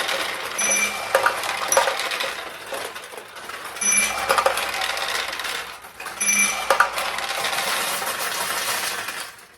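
Small metal balls clatter and rattle down inside a restored 1972 Nishijin Model A "Bowling Alley" pachinko machine in a continuous busy flurry, with bright clinks and pings throughout.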